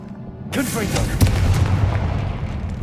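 A Confringo fire spell bursts in Hogwarts Legacy, a sudden loud blast that rolls into a sustained rumbling roar, with a sharp crack layered in partway through.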